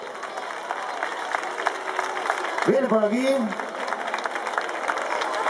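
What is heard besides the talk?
applause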